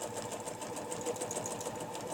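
A sewing machine stitches a quilting curve along a ruler, running as a steady, rapid needle patter at an even speed throughout, close and unaccompanied by speech.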